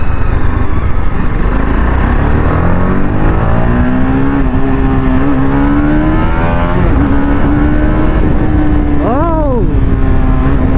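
A KTM Duke 390 motorcycle with a loud aftermarket exhaust, close and very loud, with a rising and falling engine note as it revs through gears and a sharp throttle blip near the end.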